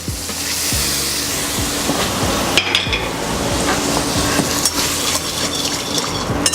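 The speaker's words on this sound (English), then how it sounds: "And hear it sizzle in the oil." Beet salad dressing sizzling in hot oil in a pan, a steady, close hiss with occasional crackles and the clink of a utensil against the pan.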